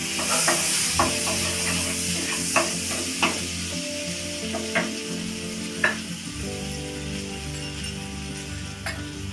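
Butter melting in a hot pan before chicken is fried crackles in a continuous sizzle, with light metallic clinks and stirring scrapes scattered throughout.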